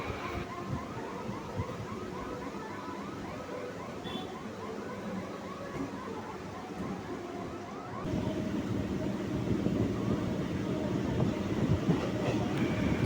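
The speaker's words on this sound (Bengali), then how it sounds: "আমাদের ট্রেনটি যাচ্ছে বজবজের দিকে" A Kolkata local train runs toward Budge Budge with a steady rolling rumble and rail clatter that grows noticeably louder and heavier partway through, with no talk.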